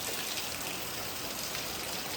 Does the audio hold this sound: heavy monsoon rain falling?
yes